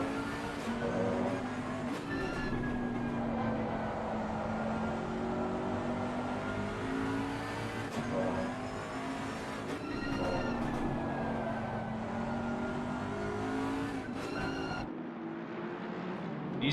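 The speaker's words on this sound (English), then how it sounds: "Bentley's got huge grunt and he's extremely efficient, even though it's this big bulky car." GT3 race cars lapping the Barcelona circuit in a sim racing game, a Bentley among them, with layered engine whines rising and falling through gear changes, steady and loud throughout before cutting off sharply near the end.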